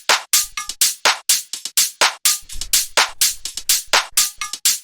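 Tech house percussion loop of crisp, bright hits and shakers in a tight, driving, steady groove, with occasional soft low thumps underneath. It plays loud and alone with no voices.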